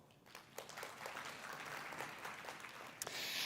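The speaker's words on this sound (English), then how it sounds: "Round of applause." Applause from a conference audience for panelists at a sustainability event, a fairly faint, distant wash of clapping that holds steady and swells slightly at the end.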